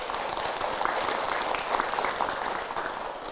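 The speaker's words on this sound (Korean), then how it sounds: "BTN 박수 치는 거 보니까" An audience at a Buddhist temple service claps steadily and fairly loud, a dense continuous applause that swells slightly and then tapers.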